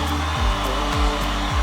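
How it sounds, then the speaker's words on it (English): A hair dryer blows steadily up close, drying a peeled car interior cover, its whirring hum slightly wavering over the short stretch. "use a hairdryer or a heat gun to dry the area completely."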